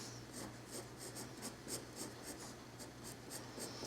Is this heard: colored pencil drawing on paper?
yes